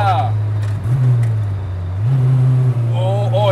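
A big-turbo KA24 engine in a Datsun 510 wagon revs and pulls hard from inside the cabin, its drone climbing and dropping through quick gear shifts, with people chatting over it.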